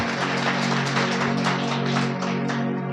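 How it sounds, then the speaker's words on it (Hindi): A congregation at a church sermon claps loudly and continuously, a dense, sustained wash of applause with no pauses. "ताली बजनी चाहिए जोर से अगर समझ में आया तो।"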